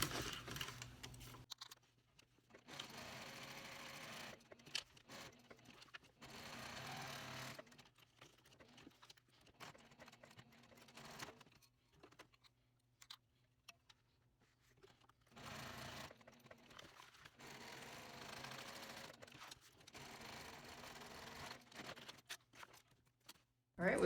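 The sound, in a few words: sewing machine stitching a backpack pocket on cork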